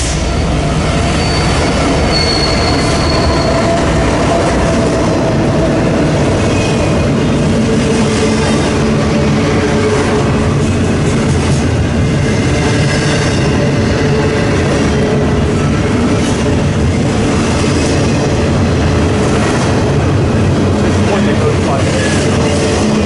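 Freight train 21T rolls westbound on Main 2 of the Fort Wayne line at CP Rochester, Pennsylvania, a loud continuous rumble with squealing wheels and steady clatter close by.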